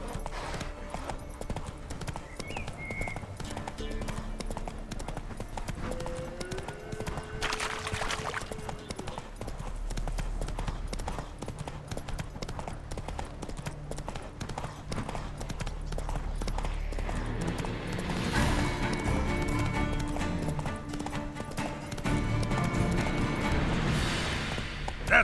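Roach, Geralt's horse in the video game The Witcher 3: Wild Hunt, gallops at length on the road toward Novigrad, with continuous rhythmic hoofbeats over ambient game sound that grows louder and busier toward the end.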